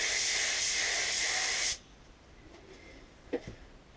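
Anest Iwata W101 gravity-feed swivel spray gun hissing loudly and steadily as it atomises at reduced pressure, then cutting off abruptly, leaving faint room noise and a couple of small knocks.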